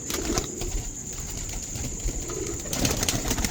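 Pigeons kept by a fancier in Pakistan coo and rustle in a soft, ongoing murmur, with occasional wing flutters and a steady high background tone.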